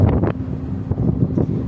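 Steady wind buffets the microphone on the open deck of the Royal Caribbean cruise ship Mariner of the Seas, a continuous low roar that rises and falls in gusts for the whole stretch with no voices.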